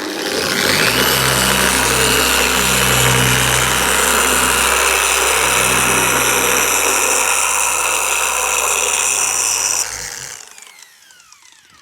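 Dual action polisher working on a car's paintwork, a loud steady machine drone with a constant hum that runs unbroken for about ten seconds, then cuts off abruptly into near silence.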